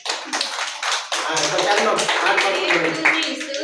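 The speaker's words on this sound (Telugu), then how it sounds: "ఓకే చప్పట్లు కొట్టు, చప్పట్లు కొట్టు." A group claps hands in quick rhythmic bursts during a house-opening prayer gathering, close and lively, with voices talking over the claps.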